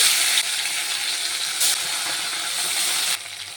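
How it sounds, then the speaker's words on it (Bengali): Steady crackling sizzle of pomfret fish frying in hot oil, a dense bright hiss running throughout with slight shifts in intensity and no voices. "বাকি মাছটিকে একইভাবে ভেজে নেব।"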